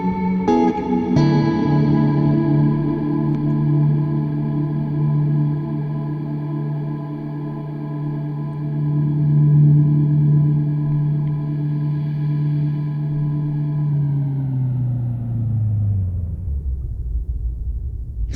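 Frozen reverb plugin effect sustaining a dense, layered drone of steady tones that hold for many seconds as its controls are adjusted, then sink and fade at the end; loud, smooth and alone with no talk.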